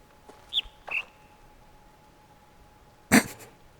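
A speaker object in the puzzle game The Witness plays short bird chirps: two quick whistled tweets near the start, then a brighter, louder burst of chirping after a pause, heard alone in a quiet setting.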